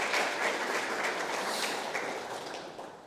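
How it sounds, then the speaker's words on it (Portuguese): An audience at a talk applauds, steady dense clapping that fills the room and slowly fades toward the end, with no speech. "Palmas para o Flávio também."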